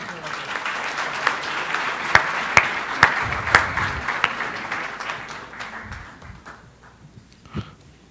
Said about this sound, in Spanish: Demos un fuerte aplauso al maestro Ezequiel Santagada